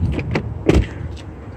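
Power door locks on a 2020 Chevy Equinox 2.0L Turbo actuate, giving a few quick mechanical clunks and whirs close by, with no talk.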